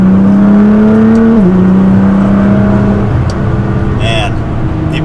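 A tuned Nissan GT-R with bigger intakes accelerating in third gear: a loud, steady turbocharged engine drone that climbs in pitch, dips briefly at a shift point, then keeps pulling, heard from close inside the car.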